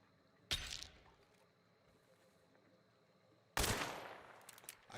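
Two loud gunshots in the video game Hunt: Showdown, about three seconds apart, each a sharp blast followed by a long, echoing decay.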